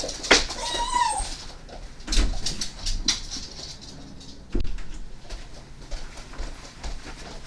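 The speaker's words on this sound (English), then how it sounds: "pardon my puppy interruption" A puppy moving about a room indoors, with soft pattering and scuffling plus brief whimpers and squeaks, close by and scattered across several seconds.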